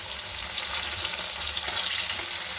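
Sliced onion and two bay leaves fry in hot oil for a chicken dish, giving a steady, close, continuous sizzle and crackle with no talking.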